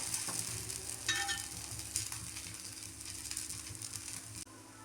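A ragi vegetable dosa cooks on a pan with a faint, continuous sizzle and scattered soft scraping clicks, low and steady throughout.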